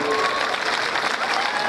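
Dense, steady applause from a studio audience at a Turkish folk music performance, loud and continuous throughout the short burst with no pause.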